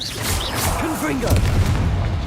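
A Confringo explosive spell blasts during a Hogwarts Legacy fight against spiders, giving a loud booming thud amid chaotic combat noise, with a person's voice audible over it.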